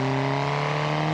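A car engine in BeamNG.drive revs steadily and loudly at high pitch while hauling a heavy load up a steep ramp. The tone is sustained and droning with no break, and no voices are heard over it.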